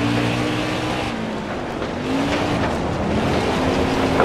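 Race cars from NASCAR Heat 4 on the Eldora dirt oval, a loud engine roar with a car drawing alongside on the outside, pitch sweeping as it passes, continuous and close with no talking.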